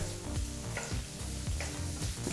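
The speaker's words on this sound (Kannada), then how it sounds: "ಮೀಡಿಯಂ ಫ್ಲೇಮ್ನಲ್ಲೇ ಎರಡು ನಿಮಿಷಗಳ ಕಾಲ ಎಲ್ಲನೂ ಫ್ರೈ ಮಾಡ್ಕೋಬೇಕಾಗತ್ತೆ" Chopped onion, fennel seeds and kasuri methi fry in hot oil over a medium flame for a mushroom gravy, a close, continuous sizzle with rhythmic spoon scrapes roughly every half second.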